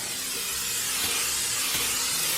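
A steady close hiss of cooking spray from an aerosol can, continuous for a couple of seconds.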